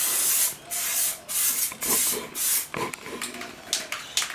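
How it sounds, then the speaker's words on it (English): Bursts of aerosol clear coat hiss as it is sprayed onto a car's side mirror, the mirror on a single-turbo R32 GTR, coming in several close, loud passes separated by brief pauses. "clear coating me side mirror"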